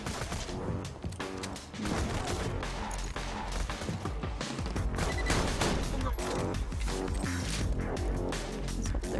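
A shotgun fires in the video game Borderlands 2, loud dense bursts of blasts and impacts crowding together almost continuously amid game music and effects.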